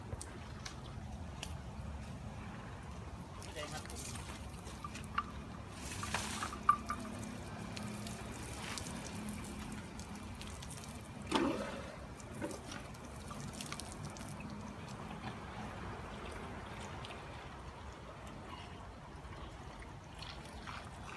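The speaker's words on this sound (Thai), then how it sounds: "น้ำไหลเบาครับที่นี่ครับ ไม่เหมือนที่ตรงนู้นนะครับ นี่นะไหลเบา" Water flows gently in an elephant bathing pool, a soft quiet trickle and light splashing with occasional small drips and bumps, faint and continuous without talk.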